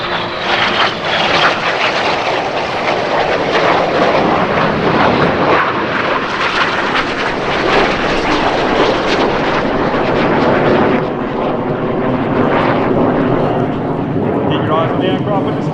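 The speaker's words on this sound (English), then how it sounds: "The aircraft with the smoke on, their aircraft is giving it its all." RAF Red Arrows jets roar loudly past at an air show at EAA AirVenture Oshkosh, giving a continuous, overpowering engine rush that swells and holds, with talk mixed underneath.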